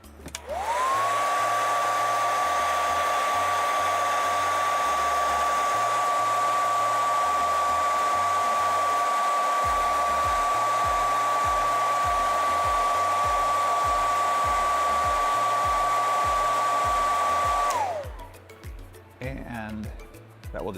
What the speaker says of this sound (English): the way to fix it once it is actually glued shut is to just hit it with a hairdryer